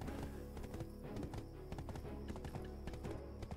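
Horse hooves clip-clopping in Black Desert Online, a steady rhythmic stream of hoof strikes over continuous game ambience and music, loud and close throughout.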